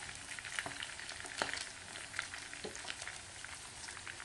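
Spaghetti and fried food cook in a pan, giving a quiet, steady sizzle and crackle with a few sharper pops scattered through it.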